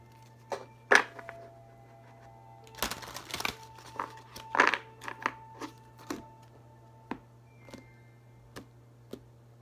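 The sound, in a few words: shuffling large tarot cards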